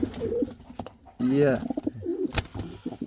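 Pigeons in a breeding loft coo, with a loud, close, warbling coo standing out in the middle. Someone talks briefly around the cooing.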